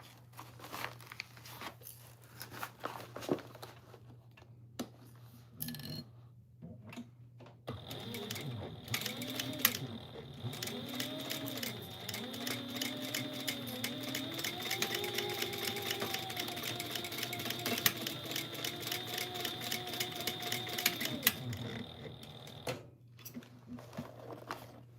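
A home sewing machine runs in a long steady burst of rapid stitching, stopping briefly for a back-stitch turn and then running on again, fairly close and alone over a faint background hum.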